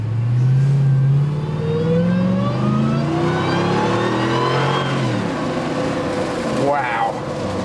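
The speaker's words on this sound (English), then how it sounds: "I could already hear just getting on it a little bit, that Hellcat whine" A Hellcat-engined Jeep accelerates hard at close range, its engine rising steadily in pitch with a supercharger whine over several seconds before easing off, with a brief sharper sweep near the end.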